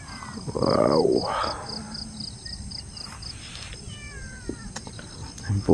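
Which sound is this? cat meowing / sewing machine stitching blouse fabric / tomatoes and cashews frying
cat meowing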